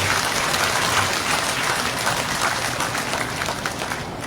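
Steady, dense applause from a seated audience inside a tent pavilion during a Hindu spiritual discourse, holding at an even level for a few seconds before easing slightly toward the end.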